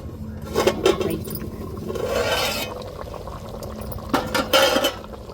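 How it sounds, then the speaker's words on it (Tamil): Tuna fish curry simmering in a pot, a steady low bubbling broken by several sharp lid and vessel clinks near the start and again toward the end, with no speech. "இப்போ குழம்பு கொதிச்சுட்டு நம்ம திறந்து பார்ப்போம்"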